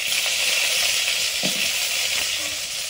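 Panch phoron and whole dried red chillies frying in hot oil, a dense, steady, loud sizzle held at close range throughout with a faint scrape partway, no voices.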